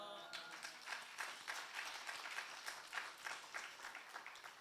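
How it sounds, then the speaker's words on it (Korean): A congregation at a Friday evening church service gives sustained applause, an even wash of clapping with steady rhythmic accents that carries on for several seconds. "박수로 맞이하겠습니다"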